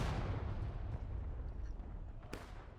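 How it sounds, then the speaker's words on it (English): Cannon fire booms in a Civil War multiplayer video game, a deep, low blast that rolls and fades, followed by a sharper, thinner crack near the end, heard at moderate distance with no talking. "CSA hits breaking from an artillery shot."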